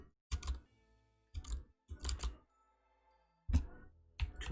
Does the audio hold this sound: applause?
no